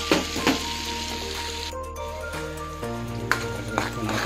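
Garlic drops into melted butter in a pan for a butter garlic seafood dish and fries with a steady, quiet crackling sizzle, with occasional sharper pops and a faint low hum beneath.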